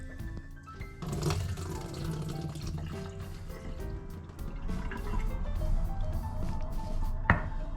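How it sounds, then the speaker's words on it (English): Steady running water drains from soaked cashew nuts and gurgles continuously at close range, with a sharp clink near the end. "I'm gonna drain all this water."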